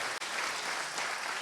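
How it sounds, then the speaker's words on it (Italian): An audience at a Sardinian folk dance event applauds an accordion player, a steady wash of clapping that drops out for an instant near the start, then carries on evenly. "a lui vorrei riservare un applauso bello"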